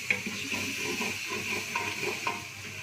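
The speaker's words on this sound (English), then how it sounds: "Now I have to saute this really well." Onions sautéing in a pan for Kashmiri mutton roganjosh, a moderate, continuous soft sizzle and hiss with occasional light scraping stirs, steady and close throughout.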